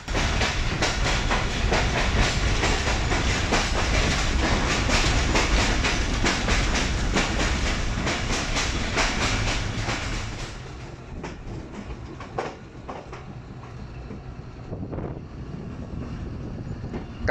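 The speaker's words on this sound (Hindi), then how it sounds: "टकाटक की आवाज़ के साथ ट्रेन ने चलते चलते" Passenger train on the Lahore to Narowal line running steadily on rails, with a continuous loud clickety-clack of wheels and carriage rumble that eases slightly partway through, with some wind noise and no talk.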